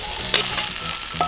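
King oyster mushrooms coated in potato starch fry in about two tablespoons of oil over medium heat, a steady close sizzle with a sharp crackle near the start and another toward the end.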